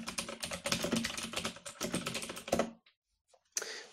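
Fingers type quickly on a computer keyboard at a terminal in dense bursts of close clicking, then go quiet briefly before a last keystroke.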